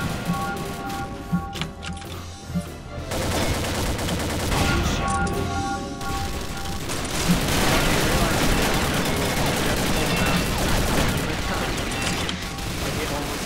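SMG gunfire in an online shooter game, rapid bursts of automatic fire rattling over busy game noise, with a voice talking at times underneath.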